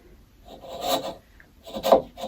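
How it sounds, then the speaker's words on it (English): A hand chisel pares wood while a mortise is cut by hand: two short, soft, rasping strokes about a second apart, close and quiet, with no talk. "pinch up on the chisel and use this hand to push through"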